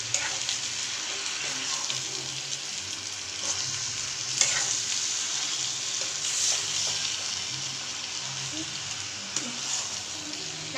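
Chicken pieces mixed in a hot pan for pallipalayam chicken give a continuous bright sizzle with intermittent stirring scrapes and clinks, steady and close, with no talk.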